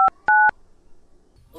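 Three short, sharp touch-tone beeps, close and clear, as a phone number is keyed in quickly, followed by near silence.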